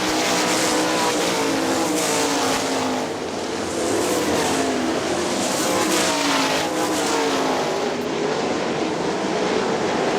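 Sprint cars race at Hartford Speedway Park in a Great Lakes Outlaw Sprint Series event, a continuous loud engine roar that swells and fades as the pack runs nose to tail around the dirt oval.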